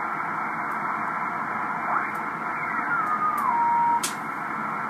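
A steady hiss of 10-meter band radio static with a faint warbling tone sliding downward through it, plus a few short crackles.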